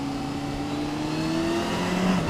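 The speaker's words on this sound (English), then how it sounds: "this engine just spools up and just blasts off" A Kawasaki Concours 14 ABS motorcycle engine pulls hard in second gear, its steady droning whine climbing in pitch as it accelerates, heard moderately loud with no talk.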